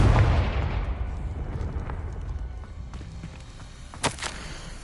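A Confringo fire spell explodes in the Hogwarts Legacy game, a loud booming blast at the start that rumbles and decays, followed by smaller crackling hits.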